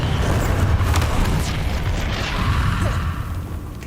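Booming fire-spell blast from the Confringo curse in the Hogwarts Legacy video game, a loud rumbling burst with crackling debris that stays dense and sustained throughout, no talking.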